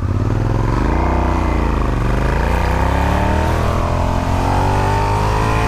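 A moped pulls away and accelerates, its engine note rising steadily in pitch and staying loud and close throughout.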